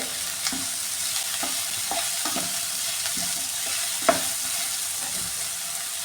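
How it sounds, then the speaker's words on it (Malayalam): Chopped onions and shallots sauté in oil in a pan for a bitter gourd stir fry. A steady soft sizzle runs throughout, broken by occasional scraping stirs and one sharper tap of a spatula, close by and without talk. "സവാള ചെറിയുള്ളി എല്ലാം ചെറുതായിട്ടൊന്ന് വഴറ്റി എടുത്തിട്ടുണ്ട്"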